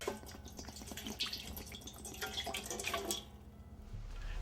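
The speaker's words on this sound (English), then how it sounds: "take vinegar and pour enough in to cover the rings in the bottom of the pan" Vinegar pours and splashes into a metal pan in a steady trickle for a few seconds, then stops, close and fairly quiet.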